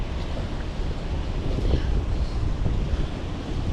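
Gusty wind buffets the microphone on a windy day of sheepshead fishing by the water, a steady rumbling roar that stays loud and continuous throughout, with no talking.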